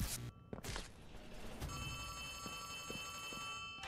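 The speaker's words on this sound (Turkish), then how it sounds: "Telefon nerede çalıyor ki?" In the video game Poppy Playtime Chapter 3, a telephone rings with a shrill, sustained electronic trill after a few sharp thuds, continuing steadily at moderate loudness under faint background noise.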